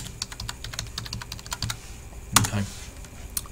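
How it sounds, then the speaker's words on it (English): Quick, light keystrokes tapping on a computer keyboard in a steady run, with one louder clack near the middle and a brief spoken word at the start. "If I type in van hire Liverpool"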